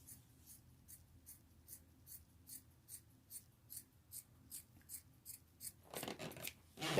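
Scissors snipping through shirt fabric, a regular series of soft crisp cuts about twice a second, close and quiet, ending in a louder rustle of handled cloth.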